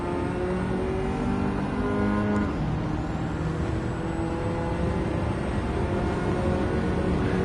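Race car engines in Gran Turismo 7 drone continuously with layered whining tones, a steady close mechanical roar that shifts pitch slightly without pause.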